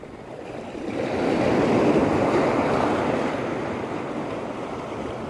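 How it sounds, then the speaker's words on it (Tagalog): Sea waves on a rocky shore build into a broad, loud rush that swells and slowly eases, close by with wind noise on the microphone and no voices. "Medyo malaki na ang alon dito sa tapat natin."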